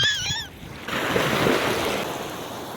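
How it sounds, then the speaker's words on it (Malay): Big waves wash and surge on a river where a net is cast for fish: a brief high call at the start, then a broad, steady rush of churning water, fairly loud and close. "Ombak. Ombak besar."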